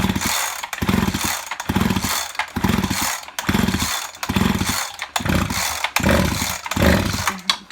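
Chainsaw starter cord being yanked repeatedly to clear the cylinder while winterizing, a series of about eight rhythmic whirring pulls, each a rough buzzing rush separated by short pauses, loud and close.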